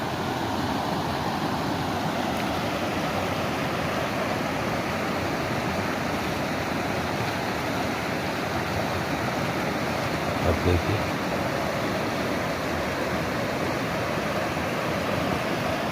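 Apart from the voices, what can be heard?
flowing river, Jhalkari tributary of Narmada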